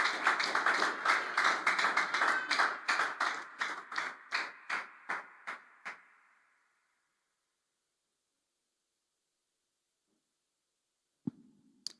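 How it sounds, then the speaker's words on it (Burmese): Audience at a Tuesday worship service claps together to welcome a speaker, with about a dozen crisp, evenly spaced claps that slow and fade into silence, followed by a couple of faint knocks. "သူ့ကိုလက်ခုပ်တည်းနဲ့ဖိတ်ခေါ်ရအောင်"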